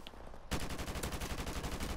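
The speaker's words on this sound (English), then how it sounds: "I'm gonna shoot you for definite" Rapid automatic gunfire in Call of Duty Modern Warfare Remastered bursts in suddenly after a quieter moment, a fast, steady string of sharp shots continuing loudly to the end.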